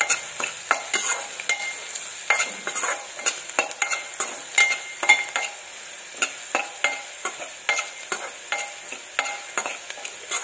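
Vegetables fry with turmeric and spices in a pan for Maggi masala rice, a steady sizzle broken by a regular run of sharp spatula knocks and scrapes against the pan.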